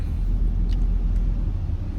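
A car driving in the Grand Theft Auto video game, a loud low steady engine rumble with road noise, continuous and close, with no talk over it.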